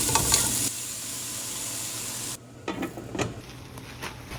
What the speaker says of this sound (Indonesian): Aku tumis bagian batangnya dulu, nah terus aku masukin bagian telur asin yang putihnya.